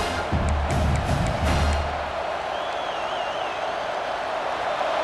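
Crowd noise in a college football stadium from the EA Sports College Football 26 video game, a broad roar with some cheering that stays steady and loud throughout.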